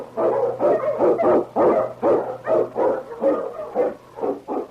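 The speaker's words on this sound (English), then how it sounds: "The Wonder Dog King, swiftest and strongest of Eskimo lead dogs" An Eskimo sled lead dog barks in a rapid, steady run of about a dozen loud, close woofs and yips, evenly spaced and alone over a faint low hum.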